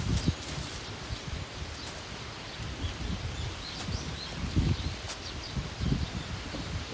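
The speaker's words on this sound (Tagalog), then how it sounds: "Malakas kasi yung hangin" Gusty wind sweeps through leafy plants in an open vegetable field, a soft, steady rustle with irregular louder bursts and low buffeting on the microphone, no voices.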